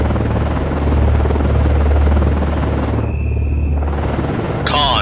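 Rotor thump and engine roar of a helicopter in flight in the naval game Cold Waters, a loud, steady rumble that briefly thins midway before swelling again.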